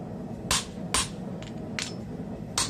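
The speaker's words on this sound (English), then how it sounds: "This is my final drift tool, and I'm using it over my convex concave anvil" Five sharp, evenly spaced hammer strikes on a drift tool held over a convex-concave anvil while forging a YK30 steel Japanese hammer head, moderately close and ringing briefly.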